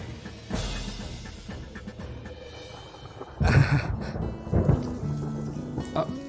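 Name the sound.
sudden rain and thunder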